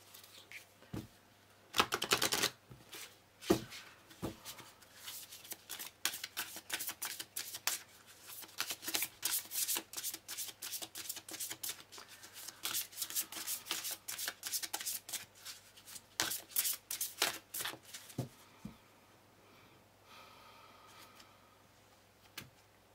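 A deck of tarot cards is shuffled by hand in repeated bursts of crisp riffling and slapping, close and fairly quiet, with no talking.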